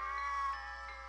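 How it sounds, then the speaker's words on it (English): A cat in the video game Amayado Bus Stop gives a single drawn-out meow, clear and fairly faint, heard alone without talking. "Oh, it's the cat."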